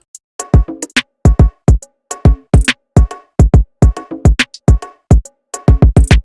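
A programmed drum beat layering kick, snare, hi-hat, bongos and tom, playing a steady, punchy rhythmic loop of sharp repeated hits at a consistent tempo, loud and alone with no voices.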